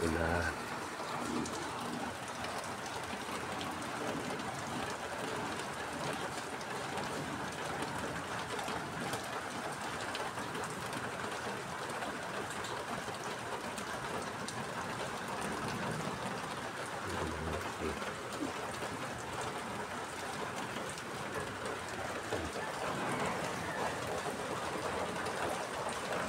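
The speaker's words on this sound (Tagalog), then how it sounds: "Oh, lakas ng ulan." Heavy rain falls in a steady, dense wash of noise that holds evenly throughout, with occasional faint bird coos blending into the downpour.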